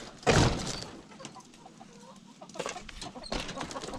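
Chickens in a coop cluck after being herded inside by a drone: one loud, close burst of squawking near the start, then scattered quieter clucks, with more rising toward the end.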